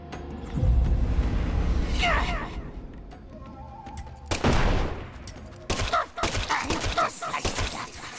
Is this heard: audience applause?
no